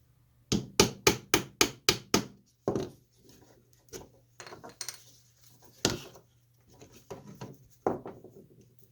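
A hammer striking a metal punch to drive a pin out of a 200-year-old wooden chair, a rapid run of seven sharp close blows, then scattered single taps and knocks with gaps between them.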